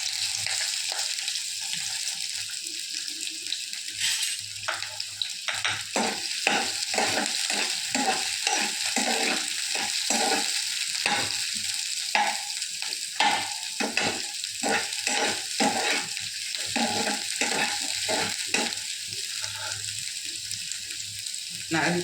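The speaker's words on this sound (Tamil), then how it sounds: "கார சட்னிக்கு தேவையான வெங்காயத்தை போட்டு ஃப்ரை பண்ணிக்கலாம்." Onions frying in a pan for spicy chutney, a continuous sizzle with repeated stirring scrapes in a steady rhythm over roughly twenty seconds, close and moderately loud with no talking.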